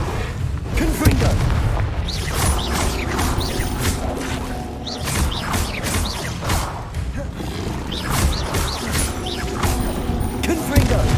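Repeated booming fire-spell blasts in the video game Hogwarts Legacy, rapid bursts and crashes over a dense, continuous roar of combat noise, loud and close throughout, with a voice speaking at times.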